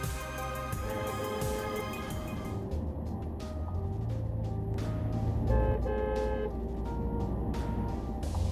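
A car horn sounds on a road with sustained, tonal blasts, then gives way to sharper, intermittent clicks and knocks, moderately loud with no voices.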